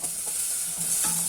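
Pigeon liver sautéing in a pan with cumin and cinnamon, a steady bright sizzle with stirring scrapes and a couple of soft clanks, close and continuous with no talking.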